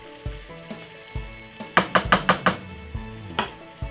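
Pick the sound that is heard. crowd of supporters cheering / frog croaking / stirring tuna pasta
stirring tuna pasta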